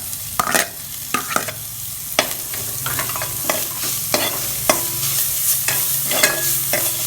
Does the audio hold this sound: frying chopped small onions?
yes